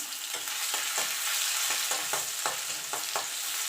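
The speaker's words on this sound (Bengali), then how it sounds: "দিয়ে একটুখানি ভাজা ভাজা করে নেব" Crushed ginger with radhuni and mustard seeds sizzles loudly in hot oil, a continuous close frying hiss with repeated stirring scrapes.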